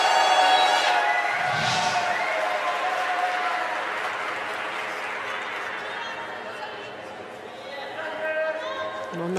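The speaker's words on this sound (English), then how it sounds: "worthy of the applause" Audience applause and crowd chatter in the arena at a USA versus China wheelchair curling mixed doubles round-robin match, steady and fairly loud, fading slightly before swelling again, under a commentator's continuous talk.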